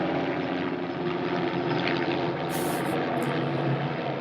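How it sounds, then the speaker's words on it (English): A helicopter passes overhead, its steady broadband rotor and engine drone holding at an even, fairly loud level throughout with no talk. "let's let that helicopter pass."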